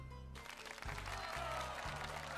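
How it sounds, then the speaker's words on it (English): Enthusiastic applause-style clapping sound effect plays as a celebratory cue with pink heart confetti in a VTuber game, a dense steady patter over a low musical hum, starting abruptly and continuing without a break. "shower of pink heart confetti comes raining down on me, accompanied by the sound of enthused clapping"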